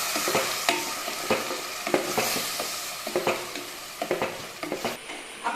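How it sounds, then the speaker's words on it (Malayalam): Ground masala being stirred into mushroom masala frying in a pan: a steady close sizzle with repeated scraping strokes of a spoon against the pan, irregular but continuous, with no voices. "അത് ചേർത്ത് കൊടുക്കാം ഇനി അതും ഇതും കൂടെ നന്നായിട്ടൊന്ന് മിക്സ് ചെയ്ത് കൊടുക്കാം"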